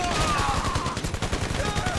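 Rapid bursts of gunfire from GTA 5 crackle continuously and loudly throughout, dense and overlapping like automatic weapons in a heated game firefight.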